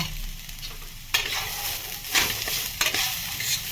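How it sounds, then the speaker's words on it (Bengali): Gobindobhog rice is stirred and dry-fried in a pan, a soft hissing sizzle broken by repeated sharp scraping strokes of a spatula, close and fairly quiet with no talk. "এখন আমি গোবিন্দভোগ চালটা ভাজে নেব।"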